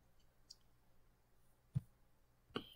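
A computer mouse click while working in Cricut Design Space: a couple of small, sharp clicks standing out from near silence, quiet and isolated, with no talking.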